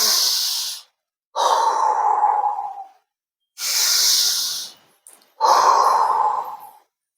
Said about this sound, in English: while lifting, you have to breathe in